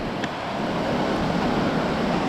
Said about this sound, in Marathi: इथे पाण्याचा एवढा आवाज येतो आहे तुम्हाला येतच असेल ऐकायला